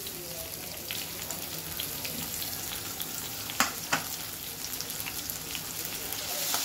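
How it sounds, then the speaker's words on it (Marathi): Three or four long-sliced onions fry in hot oil for a prawn masala, giving a steady, close, broadband sizzle with a few sharper crackles and pops partway through. "कांदे आपण चांगले परतून घेऊ।"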